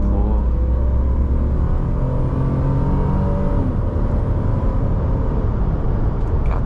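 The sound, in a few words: BMW E46 328i inline-six engine accelerating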